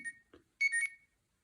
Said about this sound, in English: it just sorts of does a little beeping thing to help you find it